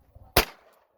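A single sharp crack from a .22 revolver fired at a shooting practice session, one close, loud report with a quick decay and near silence around it.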